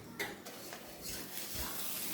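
Cabbage and fish brain fry together in a pan, making a close, even sizzle with scraping stir strokes and light utensil clinks, brief and without speech.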